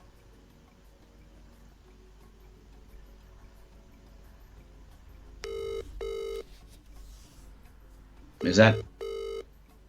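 Telephone tones, a ringing or dialing pattern, sound during a family quiz game as a contestant phones a friend: two short bursts, then a louder pair near the end, over a quiet room where people briefly talk.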